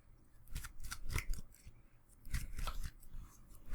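Magic: The Gathering cards are shuffled during a Modern match, making a string of quick, crisp riffling bursts close by with short pauses between them.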